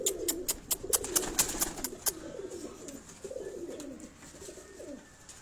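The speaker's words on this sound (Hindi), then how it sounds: "इस कबूतर को आप देखें" A pigeon coos in soft repeated low calls on a rooftop loft, close and clear, with sharp clicking or flapping bursts early on and no one talking.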